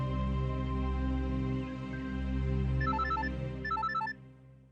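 An electronic phone ringtone chirps in short melodic bursts, twice, over a steady droning musical background, fairly faint.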